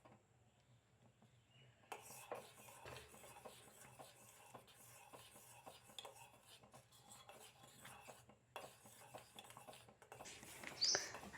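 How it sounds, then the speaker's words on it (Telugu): A spoon scrapes and clinks steadily against a bowl while stirring a mango ice cream mixture, with busy repeated metallic taps and a faint chirp near the end; no talking. "స్పూన్తో అయితే మనం ఎప్పుడు మిక్సీ చేస్తూనే ఉండాలి, ఆపొద్దు"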